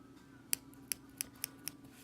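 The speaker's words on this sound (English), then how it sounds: "you will take your baby scissors and just kind of open that" Small baby scissors snip open a hole in a baby doll, five crisp separate clicks spaced about a quarter second apart, close and quiet over a faint steady hum.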